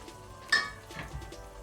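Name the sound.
masala frying in ghee in a pan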